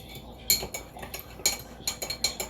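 A metal teaspoon clinks and stirs against a coffee mug as sugar is added, a series of bright, close, light taps in quick irregular bursts, quiet and with no talking.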